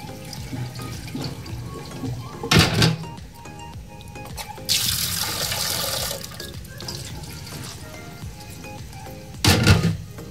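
Red gram lentils are rinsed in a kitchen, with running tap water splashing and swishing through them, a louder gush of flowing water midway and brief bursts of sloshing near the start and end.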